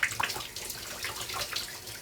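Tap water runs steadily while fake tan is rinsed off skin, a soft splashing stream with a few faint drips and no voices.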